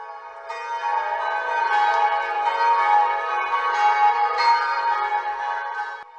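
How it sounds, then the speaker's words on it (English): The bells of the Roman Catholic Cathedral of Timisoara ring low at night, one long, resonant peal that swells and lingers, heard alone. "The bells of the Roman Catholic Cathedral of Timisoara rang low that night"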